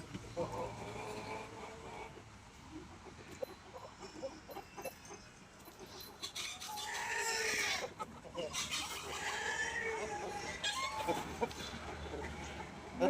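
Rooster bought at the Valloor market, clucking and crowing amid farmyard noise, with other fowl calls and someone talking over much of it.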